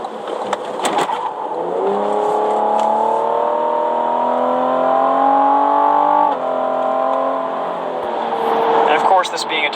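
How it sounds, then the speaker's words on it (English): A Cadillac CT5 with a 10-speed gearbox revs and accelerates, its engine note climbing steadily and holding loud and close for several seconds before easing off, with a voice talking over parts of it. "I do like the way this thing sounds too."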